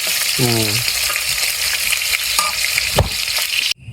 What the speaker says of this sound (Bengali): তেল দিয়ে এই মাংসগুলো ভাজা করে নামাইলো